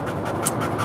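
A pet dog named Devin pants steadily right behind someone indoors, a continuous close breathy rasp filling the brief moment.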